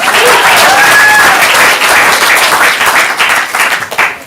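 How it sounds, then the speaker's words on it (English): Loud, dense applause from a stand-up comedy audience fills the room, holding steady with a few whoops on top before tapering off toward the end. "Just wanted to know what applause sounds like."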